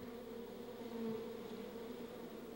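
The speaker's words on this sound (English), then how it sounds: "what I'm gonna do is grab the bee by the upper part of the body" A live bee buzzes steadily and close during bee venom therapy, a continuous drone that swells briefly then holds, with no talking.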